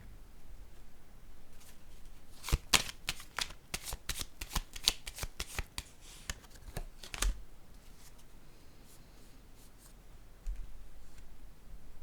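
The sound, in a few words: tarot cards being laid down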